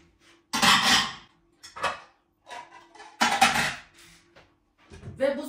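Dishes being washed and handled in a home kitchen during a cleaning session, with clattering bursts of crockery and metal in uneven spurts separated by short quiet gaps, close by and fairly loud.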